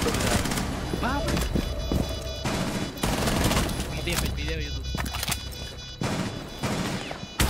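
Bursts of automatic gunfire in Rainbow Six Siege arrive in several loud, separate volleys with brief gaps between them, while a player talks and exclaims over the shooting.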